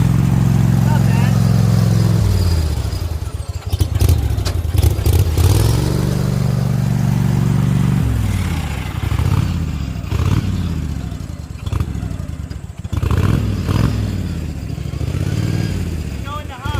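Modified riding lawn mower engine pulling in low range first gear on an off-road mower, a steady loud mid-pitched drone with revs rising and dipping, clattering throughout and a voice speaking over it.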